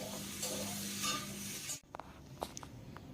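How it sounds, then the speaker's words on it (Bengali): Snake gourd and potato frying in a pan while being stirred: a steady sizzle with spatula scrapes, then the frying cuts off abruptly, followed by a few faint clinks and scrapes. "নাড়তে নাড়তে চিচিঙ্গার আলুটাকে ভেজে নিতে হবে।"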